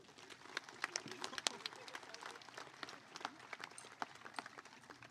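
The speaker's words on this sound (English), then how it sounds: "let's give them a round of applause as well" Steady clapping from a crowd at a high school graduation, many hands at a moderate distance, rising and falling a little without any clear pause.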